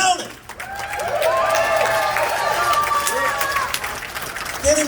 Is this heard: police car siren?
no